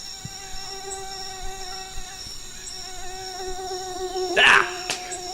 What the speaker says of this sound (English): Blasted mosquito. Got in under the netting.